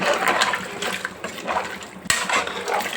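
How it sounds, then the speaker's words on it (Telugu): Boiled water pours steadily into a pot of goat-head curry, a continuous loud gushing and splashing with a brief break before the stream resumes. "ఇప్పుడు మనం కాగబెట్టుకున్న నీళ్ళు వేసుకుంటున్నాం"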